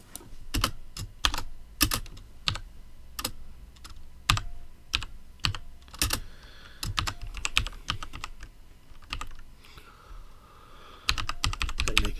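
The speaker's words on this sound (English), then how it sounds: "you're not going to get away from painful typing" Steady typing on a computer keyboard, close by, in uneven bursts of sharp key clicks with brief pauses between runs, no voices.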